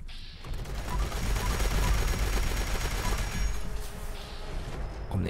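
Dense, rapid gunfire in the video game Fallout 76 rattles continuously for several seconds, loud and close, fading slightly near the end.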